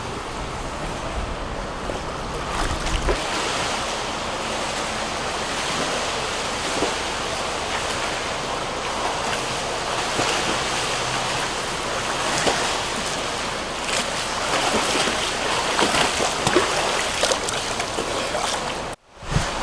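A swimmer doing 50-meter laps makes steady, continuous splashing and churning water that stays fairly loud and even throughout, with no voices.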